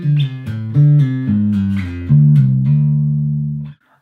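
A funky bass guitar riff on its own, a short run of plucked notes with hammer-ons, pull-offs and slides, ending on a long sustained low note that rings out before stopping.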